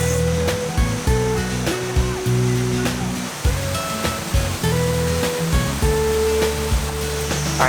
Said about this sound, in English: this waterfall is what's known as a travertine waterfall